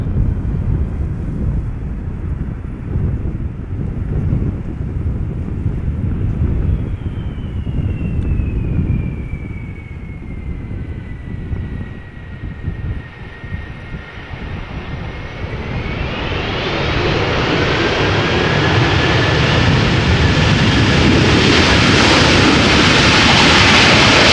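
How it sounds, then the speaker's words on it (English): A 15-year-old Airbus A330-300 arriving at Amsterdam Schiphol from Seattle in crosswind conditions: a jet roar swells from a distant rumble with a whining engine tone into a loud, close overhead blast, with wind buffeting the microphone. "Airbus A330-300 arriving from Seattle"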